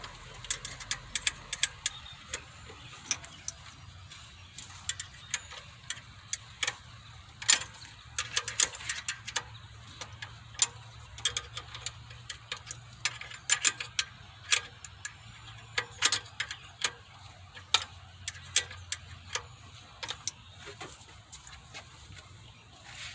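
Small metallic clicks and ratcheting ticks from loosening the alternator's adjustable screw on a 2006 Kia Spectra, likely with a 10mm socket, repeating irregularly close by and fairly faint over a low background hum.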